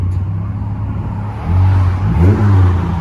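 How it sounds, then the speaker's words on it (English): A Dodge Charger 3.6L V6 with both mufflers cut off idles with a low, even burble, then revs twice in quick succession, each rev rising into a louder, throatier exhaust growl close by. "Nothing drastic, just a clean sound for a V6."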